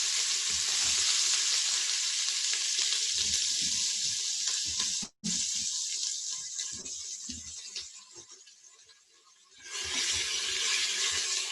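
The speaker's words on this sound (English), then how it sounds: "So we're gonna start sauteing the onions and garlic now" Onions and garlic saute in about five tablespoons of oil, a loud, steady broadband sizzle that keeps going with scattered stirring scrapes, breaks off briefly near the middle, dips softer, then comes back strong.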